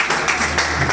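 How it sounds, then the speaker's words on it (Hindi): An audience at a commerce coaching institute's anniversary event applauds a teacher with a brief burst of dense clapping from many hands, loud and steady across the whole moment. "प्रतीक सर के लिए ताली।"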